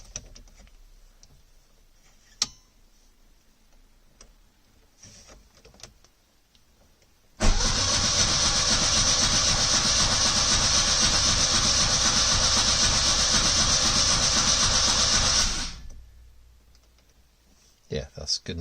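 After a few quiet clicks and a knock, the rebuilt engine of a 1970 Lancia Flavia Milleotto LX cranks and catches on its first start, then runs at a loud, steady idle for several seconds before cutting off abruptly.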